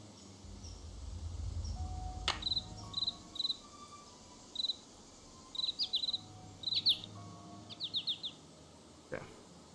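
Bird calls in the Nancy Drew Ghost Dogs of Moon Lake game, short high chirps repeated in small clusters over a constant cricket drone, with a couple of sharp clicks.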